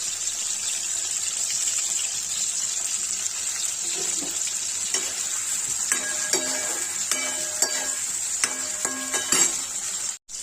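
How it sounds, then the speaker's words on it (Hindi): Paneer cubes frying in a pan, a steady bright sizzle running throughout, with a run of sharp clinks and taps from a utensil in the second half and no speech. "गाइस में पनीर फ्राई हो जाए तो डालेंगे प्यूरी बनाने के लिए।"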